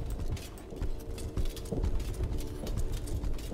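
Heavy stomping footsteps of a large beast in the video game Exanima, a steady run of loud, thudding impacts close by that carries on throughout without any talking.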